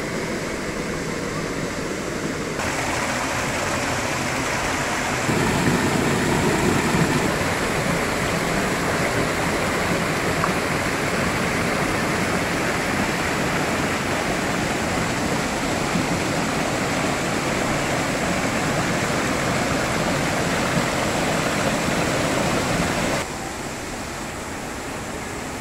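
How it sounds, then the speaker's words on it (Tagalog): Waterfalls at Ma Dai Stream in Hong Kong roar as a steady, dense rush of falling water that carries on unbroken and loud throughout, with no voices. "Ang ganda po ng waterfalls dito sa baba, pero mas maganda pa rin yung mga waterfalls sa taas."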